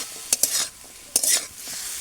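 Kohlrabi curry with a pinch of garam masala sizzles in a pan as a spoon stirs it, giving two short bursts of scraping and frying, soft and close, with no talk.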